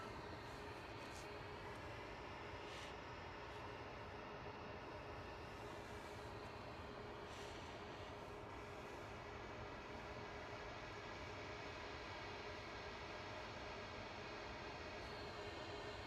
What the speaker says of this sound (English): So we've got the Ryanair over at Southside with us, heading off to Fuerteventura, flight 3805, this is ILA, a Max 8.